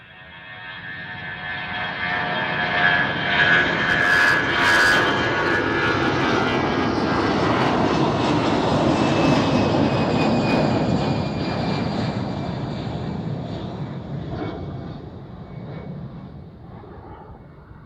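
An airliner at Amsterdam Schiphol Airport passes close by, its jet engine roar swelling from faint to loud, holding a broad rumbling whine, then slowly fading away.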